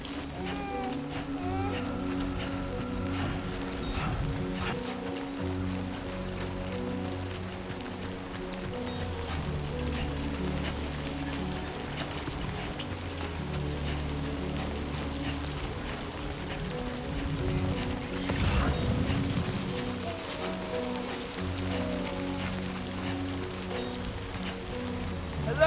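Steady rainfall in the video game Death Stranding 2 runs through the whole stretch as a continuous patter, blended with a droning game soundtrack and swelling briefly near the end.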